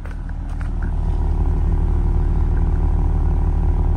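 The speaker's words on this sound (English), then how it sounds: "Let's take a listen to this exhaust quick." A car exhaust rumbles up close, a deep, steady, throbbing idle that swells early and then holds loud and even, with a faint clatter on top.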